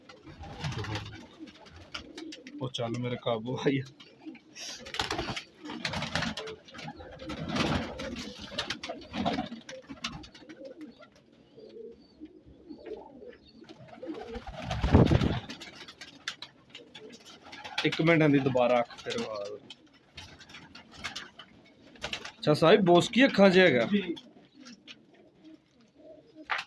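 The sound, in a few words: pigeons cooing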